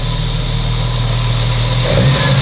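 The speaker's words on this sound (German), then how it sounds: "Deswegen, dass du immer den Motor im Leerlauf laufen lassen kannst." Carburetted engine with flywheel idling on an engine test bench, a steady loud low drone with a constant rumble and intake hiss, close and alone without talk.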